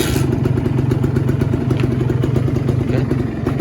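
A 2015 Kawasaki Ninja R two-stroke motorcycle fires up and settles into a loud, steady idle close by. The low engine drone runs unbroken, with faint clatter on top and no talk.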